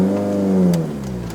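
A Suzuki Swift Sport ZC31S with a 1.6-litre naturally aspirated engine and five-speed manual pulls up a wet mountain road, its engine note rising and shifting in a brief, close, smooth surge.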